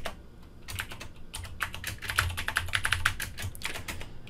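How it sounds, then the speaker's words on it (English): Close, crisp clicks from a computer keyboard as someone types a short line of text, in irregular bursts of keystrokes with a few brief pauses and no talking. "Oh, I'll just type it out here."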